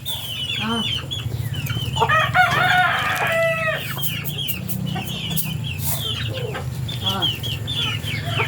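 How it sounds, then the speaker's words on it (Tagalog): Several chickens cluck and squawk in an agitated flurry, with sharp cries overlapping; a rooster-like call rises briefly amid the nearby commotion. "palaaway kasi yung ibang manok"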